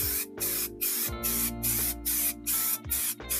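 Spray paint hissing in repeated short bursts onto a 1970 Plymouth Custom Suburban sun visor for its third and final coat, close and loud with brief gaps between passes.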